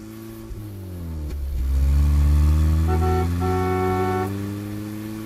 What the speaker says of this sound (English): Look at all these cars